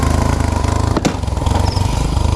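A motorcycle engine runs loud and close with a pulsing, throbbing rhythm, briefly dipping around a sharp knock before surging on as the rider rides through slippery terrain; no one speaks.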